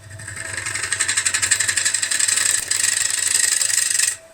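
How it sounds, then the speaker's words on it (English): A tool scrapes against a spinning yarn bowl on a wood lathe during light pull cuts, making a close, rapid, rhythmic rasp and chatter over a low motor hum before stopping. "Doing a few pull cuts to remove material quicker, but light cuts."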